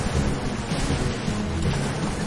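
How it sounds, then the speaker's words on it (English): Thunder rumbles in a pirate-themed video game, a steady low roll mixed with a rain-like wash and no talk over it. "Thunder."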